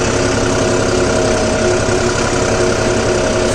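A John Deere 5405 CRDI tractor engine runs close by, a loud, steady diesel drone with a constant low rumble and even tone throughout, no voices over it.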